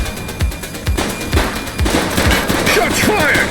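Gunfire in the police video game The Precinct: a loud, close series of sharp shots in rapid bursts, cracking repeatedly over game ambience with a brief voice in the mix.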